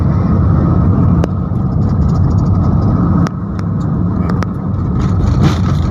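A car drives over a patched, potholed road in Jakarta. A steady, loud cabin rumble runs throughout, broken by several sharp jolts and thumps as the wheels hit the holes.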